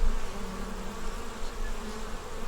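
Honey bees swarm around an open hive during an inspection, making a dense, steady buzzing hum that is close and continuous, with no speech over it.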